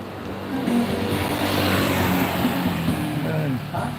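Van engine rumbling past on a Chiang Mai street, a steady low drone that swells and holds for several seconds before easing off, with a voice faintly underneath.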